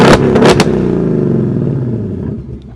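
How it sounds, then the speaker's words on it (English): Remote revving of a 2024 Ford Mustang Dark Horse V8, triggered from the key fob with no one inside: two or three sharp throttle blips in the first half-second, then a loud idle that slowly settles, heard up close with no talk. "So in order to rev it, you push the unlock and then hold the lock."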